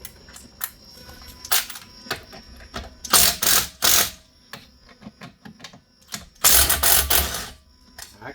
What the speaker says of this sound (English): let's loosen up these bolts.